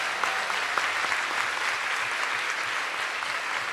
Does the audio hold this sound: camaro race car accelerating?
no